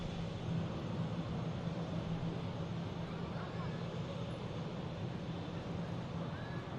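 A steady, broad roar of aircraft engine noise at Manchester Airport holds evenly throughout with a low hum beneath, distant and unchanging, with no distinct events.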